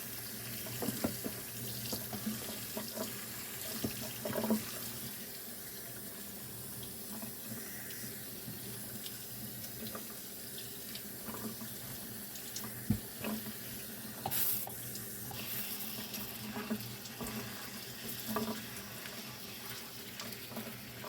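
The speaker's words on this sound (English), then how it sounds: "I'm just going to go ahead and rinse over these cranberries." Tap water runs steadily into a sink while frozen cranberries are rinsed, a continuous moderate splashing hiss with occasional clinks and knocks, close and without talking.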